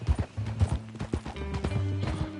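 Horse hooves clip-clop in a steady, close rhythm, with a low hum underneath, in the video game Red Dead Redemption 2.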